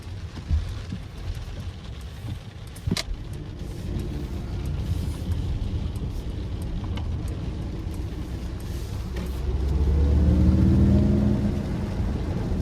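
Mercedes-Benz EQS 450 4MATIC electric car accelerating in sport mode, a steady low road rumble and tyre noise that swells and rises in pitch toward the end, with no talk.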